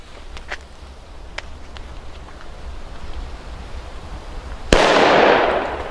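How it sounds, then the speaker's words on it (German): A single loud Funke China Böller D firecracker bangs sharply near the end, followed by a noisy hissing decay, after several seconds of quiet outdoor background with faint clicks. "So muss ein Böller sein."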